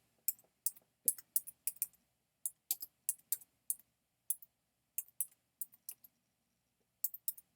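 Quick bursts of keystrokes on a computer keyboard, crisp and fairly close, arriving in irregular clusters with short pauses between, no voices over them.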